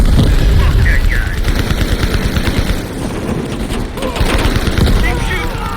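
Sustained automatic gunfire rattles through a Call of Duty Black Ops Cold War campaign battle, loud continuous bursts filling the scene as voices shout beneath the shooting.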